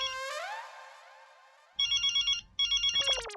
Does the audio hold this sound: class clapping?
no